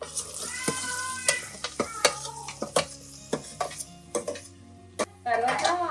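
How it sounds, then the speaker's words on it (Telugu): Vegetables frying in a pan with onions and ginger garlic paste, a spoon scraping and clinking against the pot in uneven strokes over a soft steady sizzle, close by. "ఉల్లిపాయ బాగా వేగిన తర్వాత అల్లం వెల్లి పేస్ట్ వేసాను ఇది బాగా వేగిన తర్వాత ఇప్పుడు ఈ వెజిటేబుల్స్ వేసేయాలి"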